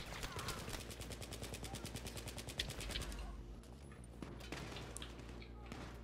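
Gunfire in the shooter Battlefield 3: a fast, steady automatic stream of shots for about three seconds, then scattered single cracks over background battle noise, fairly quiet overall, with players talking at times.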